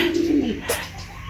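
A racing pigeon in its loft gives a single soft, low coo that slides downward, close by, followed by faint background rustle.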